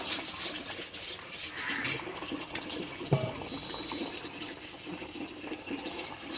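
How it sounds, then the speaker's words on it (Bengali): Fish curry broth with cauliflower and potato bubbling at a boil in a pot, a steady close wash of simmering hiss and gurgle with a few small clinks and knocks in between. "ঝোল ফুটে গেছে এবার মাছ দেব"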